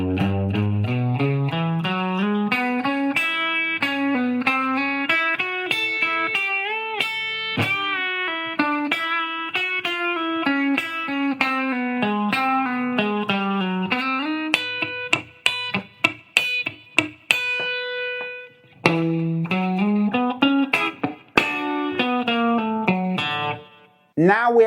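Country hybrid-picking guitar lick at full speed through distortion, with quick runs of picked notes, sharp staccato stabs in the middle and a final flurry, loud and up close with no talking.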